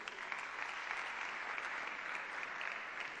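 Faint but steady applause from an audience greets a scholarship recipient at a ceremony. The clapping is continuous and even, with a slight crowd murmur.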